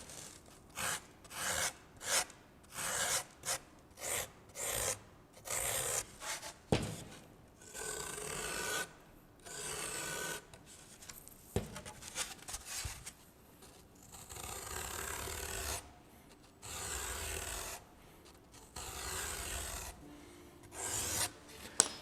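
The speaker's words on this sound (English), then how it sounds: "And then we just use our sandpaper and we sand the edges." Sandpaper rubbed by hand along the edges of carved wooden lettering, a run of short rasping strokes in steady rhythm that gives way to longer, smoother passes, close and fairly quiet with no voices.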